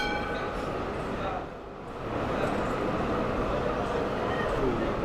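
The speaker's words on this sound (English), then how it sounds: "Wait for the tram to go past." A tram rumbles past nearby, a steady broad roar with faint metallic squeal, dipping briefly then swelling again as it goes by.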